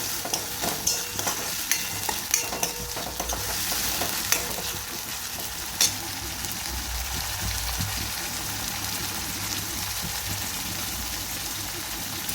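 Cowpea pods sizzle and sauté in hot oil while being stirred, with a steady frying hiss throughout and occasional sharp scrapes and taps of the spatula against the pan, close and fairly loud.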